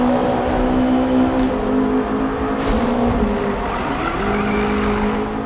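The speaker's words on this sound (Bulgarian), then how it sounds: "И начина по който звучи този двигател" McLaren sports car in the racing game Need for Speed 2015, engine droning with rising and falling pitch, tires squealing and skidding through a tunnel, loud and continuous with no talk over it.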